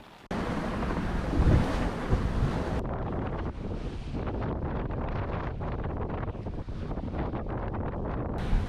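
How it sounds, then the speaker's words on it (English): Strong wind and choppy waves during a bumpy sail toward Green Island, a constant loud roar of wind buffeting the microphone over sloshing surf, close and continuous, with no voices. "The waves are so choppy and we're just bouncing around."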